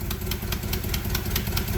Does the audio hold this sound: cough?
no